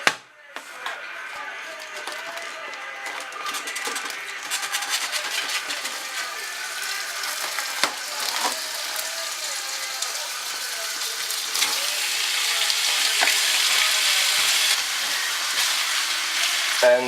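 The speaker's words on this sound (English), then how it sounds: "And fry this stuff for maybe 10 minutes" Stewing beef, 900 grams, frying in hot oil: a steady, bright sizzling hiss that builds gradually and stays continuous and fairly loud throughout, with occasional small crackles.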